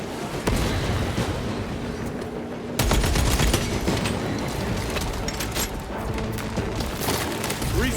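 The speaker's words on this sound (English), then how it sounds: "Frag grenade out." A sustained barrage of heavy gunfire and explosions in Space Marine II, with a loud blast near the three-second mark as a frag grenade goes off, dense and roaring throughout.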